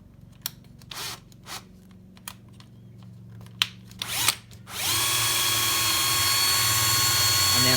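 A power drill starts up and runs steadily at high speed, drilling wood for a poker table after a few scattered taps and handling knocks, close and loud.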